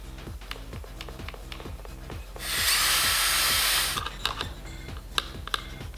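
A handheld power tool whirs steadily as it strips paper gasket residue from a car part, with a loud burst of grinding in the middle and rhythmic mechanical clicking throughout.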